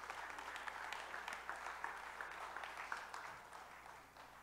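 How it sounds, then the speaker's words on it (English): Soft, continuous applause from a church congregation during a service, a dense patter of many hands that stays steady and faint throughout, with no talk over it. "Give him a hand, a round of applause."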